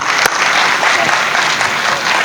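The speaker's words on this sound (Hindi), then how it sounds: "तालियां बजाएं ताकि मैं शुरू कर सकूं।" A crowd at a Hindi comic poetry gathering applauds vigorously, a dense, steady wash of clapping from many hands at close range, filling the whole moment.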